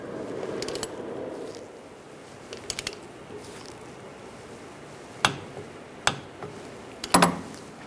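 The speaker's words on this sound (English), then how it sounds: "Now I'm going to torque this bolt to 30 foot-pounds." A torque wrench tightens a brake hose bolt on a 2008-2017 Buick Enclave, giving several sharp metallic clicks close up, spaced apart after quieter ratcheting.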